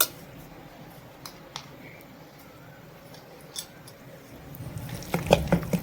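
Khatta dhokla batter stirred with turmeric, coriander-cumin powder, red chili powder and salt: faint wet squelches and light scraping clicks against the bowl, growing louder and thicker toward the end, with no talking.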